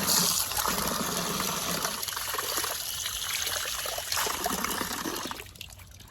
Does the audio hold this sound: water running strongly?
yes